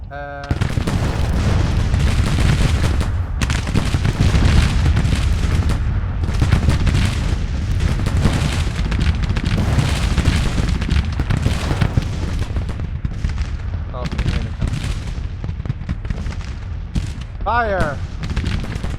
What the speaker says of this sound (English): Good range on the cannons.